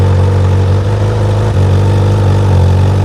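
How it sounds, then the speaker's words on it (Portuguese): A Honda CB 1000R inline four-cylinder motorcycle engine idles steadily and loudly up close, a dense, slightly lumpy low rumble with a brief dip partway through. "Marcha lenta meio embolada, né? Característica desse tipo de motor."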